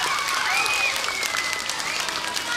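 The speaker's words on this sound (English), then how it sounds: "give her a round of applause" A crowd applauding steadily with dense clapping, accompanied by a few whoops and cheers rising above it.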